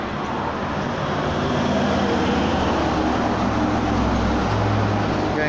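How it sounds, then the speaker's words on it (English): Steady road traffic rushing past a junction in Coorparoo, a continuous broad roar of vehicles with a deeper engine drone building toward the end. "Here comes the run of traffic."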